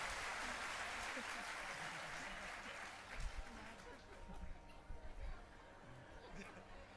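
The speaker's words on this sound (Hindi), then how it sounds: "भाई ताली बजा दीजिए" A religious discourse audience gives steady applause that fills the hall at a moderate level, with chatter and murmuring voices running underneath and a few louder bursts of clapping toward the end.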